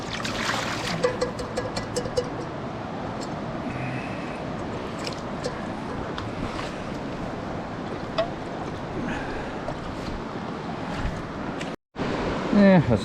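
Cold stream water is poured over a body during a rinse at a solo truck campsite: a steady, close splashing rush that runs without a break for about twelve seconds, then stops briefly before a short final splash.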